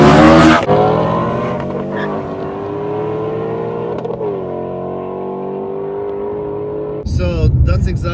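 A 2020 Subaru STI and a Shelby drag race from a standing start: a loud launch roar, then a sustained engine drone as the cars pull away, and a fresh loud burst of engine noise near the end.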